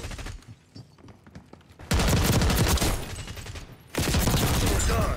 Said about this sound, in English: Hostile shooting.